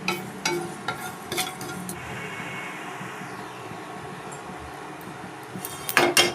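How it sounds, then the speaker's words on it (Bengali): Panch phoron spices dry-roasting in a nonstick wok, stirred with a spatula: light crackle and rustle with scattered scraping and tapping strokes, louder clinks near the end. "এটা একটু শুকনো খোলায় নেড়ে ভালো করে ভেজে নেব।"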